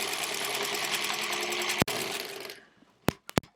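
A sewing machine stitches quilt-as-you-go blocks through a thick seam with a steady, close mechanical whir that stops abruptly, followed by a few sharp clicks and handling knocks in near silence.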